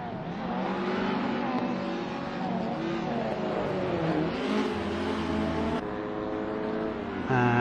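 A Ford Escort race car working past an Alfa and a Fiat, several engines revving and shifting gears close by, droning loudly with a sharp change in pitch as cars pass.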